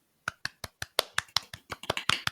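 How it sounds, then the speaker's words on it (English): Quiet hand clapping during an online congratulations: about fourteen soft, sharp claps in a steady, slightly quickening rhythm, close and alone with no talking. "Hopefully, people can hear my claps"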